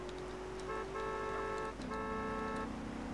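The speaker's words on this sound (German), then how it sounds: "Oh, vielleicht steht irgendjemand rum, den ich ein bisschen anhupen kann." A car horn honks in the video game GTA San Andreas multiplayer, a steady tonal blare held for over a second, a short break, then another long honk, clear over a low engine hum.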